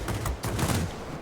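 In the World of Warplanes air-combat game, 30mm aircraft cannons fire two quick, heavy bursts of booming shots close up, with a rumbling tail between them.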